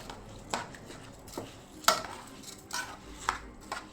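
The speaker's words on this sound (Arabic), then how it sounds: "لازم نقلب الرز في الشعريه ونخلطهم في بعض كويس" Rice and vermicelli stirred together in a pot, with a spoon scraping and knocking against the pot in irregular clinks and taps, fairly quiet and close.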